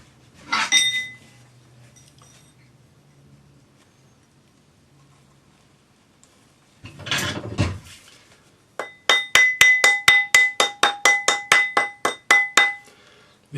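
A soldered silver love-knot ring is shaped on a steel ring mandrel. A couple of isolated knocks lead into a quick run of about a dozen bright, ringing metallic hammer taps near the end.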